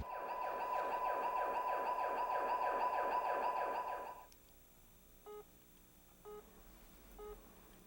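An ambulance rushing a patient to hospital wails with a steady, loud cycling siren for about four seconds, then cuts off, leaving a quiet hum with a few faint short tones.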